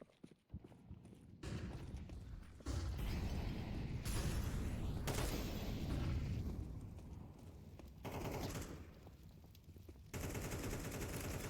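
Automatic AK rifle fire in a Counter-Strike match, loud sustained rattling bursts of spam from several guns, continuous with brief shifts in intensity.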